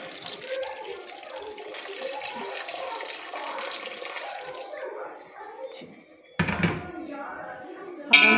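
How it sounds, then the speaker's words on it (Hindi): Water poured into a pot of vegetable pulao, a steady splashing pour with a soft liquid wash that runs several seconds, then brief louder splashes near the end, with a voice talking over it. "इसमें हम पानी इतना डाल दें ताकि ये सब कुछ गल जाए।"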